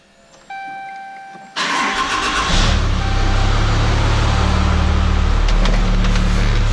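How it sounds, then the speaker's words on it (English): A 4th gen 6.7 Cummins diesel pickup truck, fitted with a swapped 48RE transmission, starting up: a click, then a whirring crank that catches into a loud, rumbling diesel idle that settles and holds steady close by. "So we'll start the truck."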